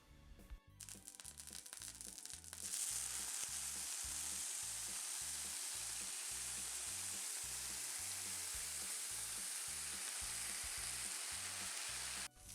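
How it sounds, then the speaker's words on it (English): Beef birria tacos frying in birria juice on a hot surface give a steady, loud sizzle that rises sharply and then holds, with a faint rhythmic thumping underneath and no voices. "we will be adding some birria juice to the tacos"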